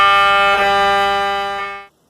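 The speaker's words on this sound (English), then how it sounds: "familiar with the sounds of being in an MRI machine," MRI machine scanning: a loud, steady electronic drone with a strong harmonic buzz, held for about two seconds before stopping abruptly.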